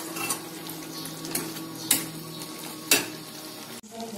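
Chicken being stirred with yogurt and green chili paste in a pan for a green chicken dish, a low sizzle under repeated scraping spoon strokes and sharp clinks against the pan, with no voices.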